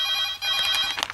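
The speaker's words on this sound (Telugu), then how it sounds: "ఫోన్ తిగి." An indoor telephone rings in a comedy film scene, one short electronic trill of bright tones lasting about a second, close and clear with no talk over it.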